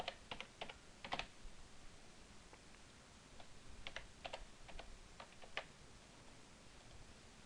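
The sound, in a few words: typing a name on a computer keyboard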